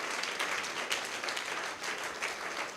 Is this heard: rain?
no